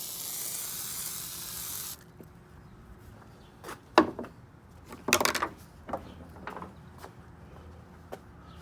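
WD-40 sprays onto excess paint on a Willys CJ3B Jeep in a close, loud two-second hiss, followed by quieter scattered rubbing and clicking sounds.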